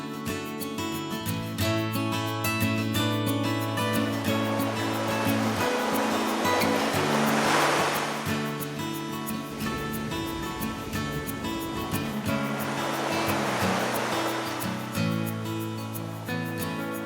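Ocean waves roll onto a beach, a loud, continuous wash of surf with two broad swells cresting and breaking near the middle and end, heard alone without voices.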